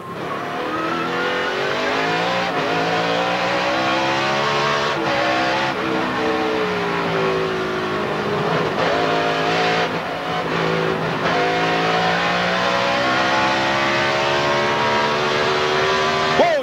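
NASCAR race cars at the 2005 Dodge Save Mart 350 road-course race, engines roaring loudly and continuously with shifting pitch as several cars accelerate and slide through corners, no talk over them.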